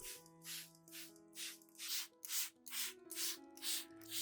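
A spray bottle mists a peace lily in about eight short, soft hissing bursts at a fairly even rhythm, quiet and close, over faint tonal music.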